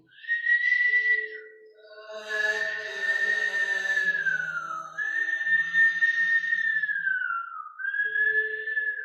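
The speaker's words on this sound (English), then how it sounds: "Whistle breath takes the fear away." During a yoga class, a long whistled breath through pursed lips produces clear, sustained whistling tones in several drawn-out phrases with brief pauses, fairly soft and close.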